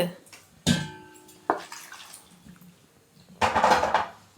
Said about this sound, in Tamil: தண்ணியில் நம்ம நல்லா அலசிடலாம்,